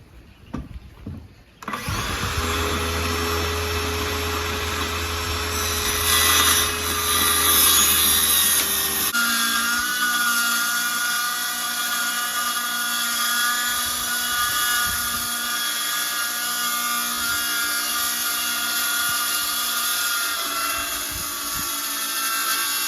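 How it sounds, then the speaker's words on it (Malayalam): A power tool cuts the bottom edge of a wooden door that rubs and drags: the motor spins up loud and close, then a long steady high whine while it saws through the wood. "ഇപ്പോൾ നമ്മൾ മറ്റേ സൈഡിൽ കട്ട് ചെയ്യാൻ പോകണം"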